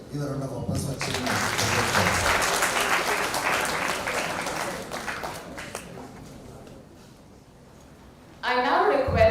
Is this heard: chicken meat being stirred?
no